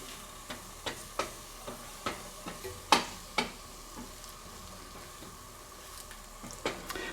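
An egg cooks in a pan for a bacon, egg and cheese English muffin, with a soft, steady sizzle under a run of sharp utensil taps and clicks spaced irregularly; one louder knock midway, close up and without talk.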